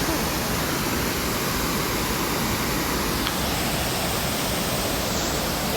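Running water in a natural outdoor setting makes a constant, full roar of broadband rushing, steady and near throughout with no talk.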